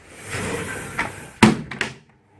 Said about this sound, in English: quickly close the door and see what happens